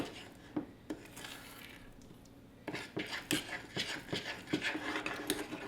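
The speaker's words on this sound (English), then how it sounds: "Just going to stir it all together." Utensil stirring walnut pie filling with lumps of butter in a pot, a series of distinct clinks and scrapes with a quiet pause in the middle, then quicker, busier clatter.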